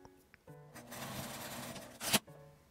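A sewing machine stitching a vertical seam through fabric while making an accordion-style fabric card case, a close steady whirring run of a couple of seconds with brief clicks before and after.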